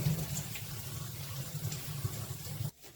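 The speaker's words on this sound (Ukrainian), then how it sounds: "Мию її в рукавичках, тому що вона колиться." In a kitchen, water runs from a tap over young nettles being washed by gloved hands, a soft, steady rushing with faint splashes that cuts off abruptly near the end.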